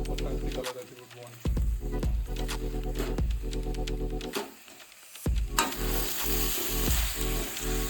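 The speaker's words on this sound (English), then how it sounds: "So give it a good mix" Chicken dry fry coated in masala, being stirred while it fries in ghee, loud and close, with steady sizzling, repeated scraping strokes, a brief dip partway through and a hum underneath.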